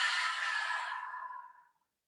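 A single slow, audible breath out is heard close and soft, fading away to silence during a guided mindfulness breathing exercise.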